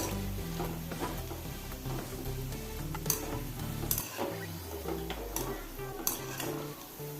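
Pakkavada bajji fries in hot oil, a steady sizzle with soft scraping and clinking as it is stirred, close up.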